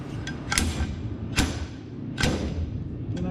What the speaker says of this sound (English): So I got this slide hammer with this attachment on